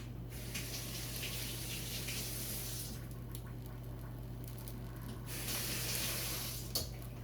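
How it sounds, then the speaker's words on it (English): Running tap water splashing over an onion being rinsed in a kitchen sink, a steady hissing patter that dips midway and then swells again, with no voices. "I'm just going to rinse this onion off"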